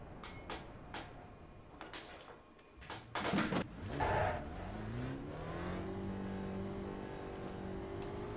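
A Spec Racer Ford at Spa Francorchamps in a racing video game gives a few sharp clunks and knocks, then its engine fires and revs, the whine climbing steadily and holding at a high pitch.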